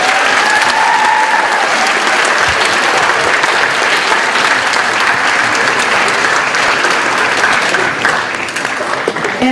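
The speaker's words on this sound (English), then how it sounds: "Let's give them another round of applause." Loud, sustained audience applause at a school Veterans Day ceremony, with dense clapping filling the hall without a break and easing slightly near the end.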